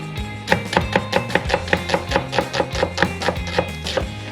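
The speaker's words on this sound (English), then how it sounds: "When you finish chopping all your onions" A knife chopping onions on a cutting board while making vegan chilli, striking in a steady, even rhythm of about four crisp thuds per second, close and clear with no talking.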